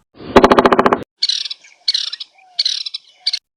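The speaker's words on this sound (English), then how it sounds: "woodpecker" A woodpecker calls, opening with a loud, rapid harsh rattling call and followed by several shorter high, chattering bursts with brief pauses between them.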